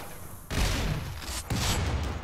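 Heavy gunfire and explosive booms from an auto mortar in a robot battle video game, two loud sustained bursts of blasting and rumble, one starting near the beginning and another about a second later, with no talk.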